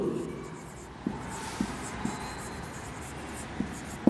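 Pen or chalk writing a heading during a financial statement analysis lesson, faint scratching with sharp taps and strokes about every half second, set against a quiet room hiss.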